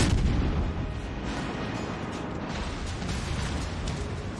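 Naval gunfire in the video game World of Warships Legends rumbles as steady, loud low booms, with mechanical creaking layered over a dense continuous roar and no speech.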